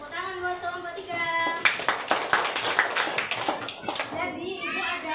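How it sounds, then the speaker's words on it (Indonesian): Classroom of children clapping for a student group after a lesson on social norms, a burst of fairly close, uneven hand claps under kids' chatter and a teacher's voice. "tepuk tangan buat kelompok 3"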